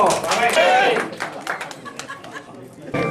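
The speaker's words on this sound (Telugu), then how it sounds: "ఇప్పుడు మల్లికార్జున కొట్టడు చప్పట్లు ఓకే కొట్టడు చప్పట్లు" A crowd at a political rally claps hands in a brief spatter, loud at first and then thinning out, with chatter and voices mixed in over the clapping.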